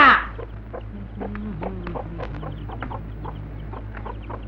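Chickens cluck softly and irregularly at close range on a farm, a series of short, throaty calls over a low steady hum after a brief noisy burst at the start.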